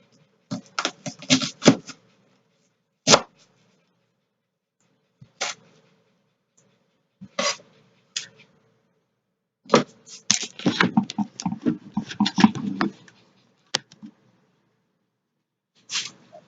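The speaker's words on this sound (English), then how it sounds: "We'll just dice it, just like that." A knife dices an onion on a cutting board in a home kitchen, with clusters of quick, close chopping taps separated by pauses, including one dense run of rapid strokes.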